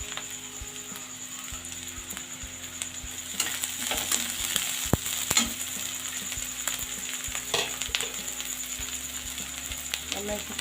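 Chopped green chili and ginger frying with browned onions in a pan, a continuous close sizzle under a persistent rhythmic mechanical ticking and clatter, no talking.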